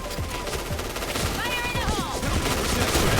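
Shotgun blasts go off during an online shooter match, several heavy shots in a rough rhythm over constant game noise, with a short warbling electronic effect in the middle.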